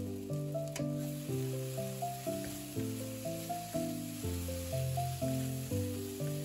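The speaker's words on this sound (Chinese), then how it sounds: "快速翻炒一下。" King oyster mushrooms stir-fried with scallion greens in a hot wok, a steady sizzle cut by rhythmic scraping strokes about twice a second, with a musical backing underneath.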